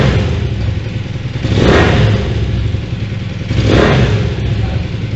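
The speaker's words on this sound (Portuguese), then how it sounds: "Vinícius, botei no lugar, ó, funcionei a moto" Honda CB 400 motorcycle engine, freshly carburetor-adjusted, idles steadily up close and is revved twice, each blip rising into a loud roar before settling back to idle.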